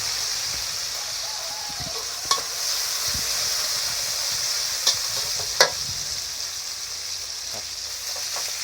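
Cabbage frying with pork in a hot pan, a steady sizzling hiss with a few sharp stirring clinks against the pan, close and fairly loud, no talking.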